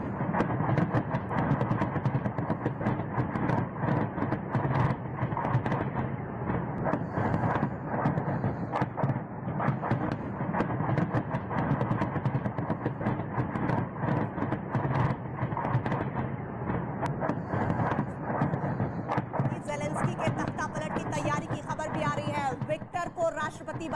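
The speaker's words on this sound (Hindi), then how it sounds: "ये खार्किव की भारी बमबारी की तस्वीरें हैं। सुनिए जरा आवाज।" Heavy bombardment over Kharkiv, a dense continuous barrage of distant explosions and rumbling blasts with rapid crackling bursts, steady and unbroken throughout.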